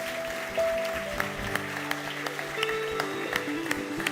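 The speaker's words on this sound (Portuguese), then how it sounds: "E você pode dar uma salva de palmas para Jesus." Church congregation clapping in praise during an evangelical service, a moderate wash of hand claps with sharper individual claps, mixed with sustained keyboard chords and held musical tones.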